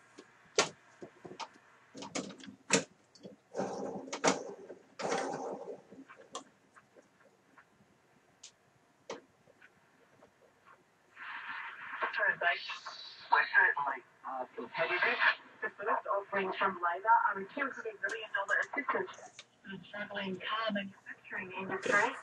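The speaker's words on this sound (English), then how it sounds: "That's now the sound of the Hammarlund you're hearing." A Hammarlund SP600 shortwave radio receiver tuned to 9580, with a broadcast signal coming through as bursts of voice and program audio, a quiet gap, then a steadier stretch of loud receiver sound.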